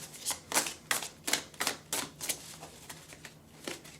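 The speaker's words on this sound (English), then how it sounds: "We're going to start with the Star Tarot deck. Shuffling." Rapid riffle shuffling of tarot cards, a series of crisp flapping bursts in uneven rhythm, close and fairly quiet, no voices.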